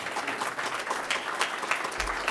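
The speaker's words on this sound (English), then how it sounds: "let's have a round of applause for Travis and the 2020 inductees." A hall of fame induction ceremony audience applauds the inductees in a brief, steady burst of clapping from a crowded room.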